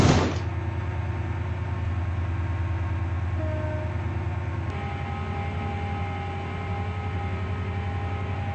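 A Class 68 locomotive idles at Stepford Central in the game Stepford County Railway, giving a steady, close diesel drone with a faint tonal whine and one soft click midway.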